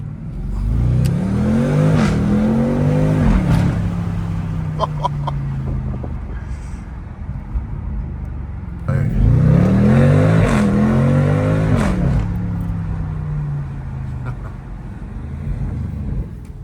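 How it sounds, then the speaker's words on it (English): A BMW M550i launching hard, its engine roaring loud and close through two rising surges with gear-shift dips in between, then a steady whir of road and wind noise, with no talking. "I think that's the fastest launch I ever felt."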